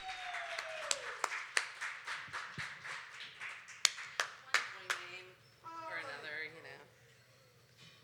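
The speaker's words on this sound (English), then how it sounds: "Please, folks, give a huge round of applause to" Scattered claps from a small poetry slam audience greet poet Andy, sharp separate hand claps over a murmur of voices, thinning out toward the end as talk continues.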